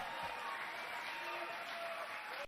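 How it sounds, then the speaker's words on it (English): Applause from a crowd of people clapping at an event, a dense steady patter of many hands heard at moderate distance and fairly quiet, running throughout and cutting off abruptly at the end. "And these fucking trained SEALs back here clapping at that."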